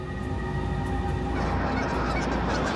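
A flock of geese honks continuously and loudly, a dense overlapping chorus of calls that thickens partway through, alone with no talk.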